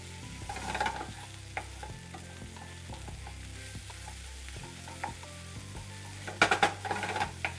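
Garlic sautéing in a hot pan, a steady sizzle broken by the clinks and scrapes of stirring, with a louder burst of spattering and scraping near the end.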